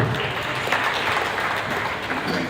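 At a Lagos commemorative event, an audience claps in a steady, even patter for a couple of seconds, a moderate wash of many hands with little else.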